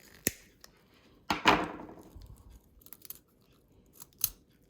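Sharp snips of wire cutters cutting craft wire to length for wire flowers, with one crisp cut followed by a brief rattle and a few softer clicks of handling, close and quiet.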